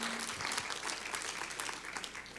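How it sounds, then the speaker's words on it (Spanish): A dense church congregation bursts into steady applause, many hands clapping together for a couple of seconds at moderate volume. "Denle un aplauso, claro que sí."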